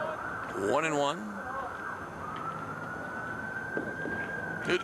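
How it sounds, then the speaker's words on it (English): Emergency vehicle sirens sweep past a high school baseball field during a Central versus Londonderry game, a sustained wailing tone heard at moderate distance under outdoor ambience, with a brief vocal sound near the start and a commentator talking. "The sirens are too close together."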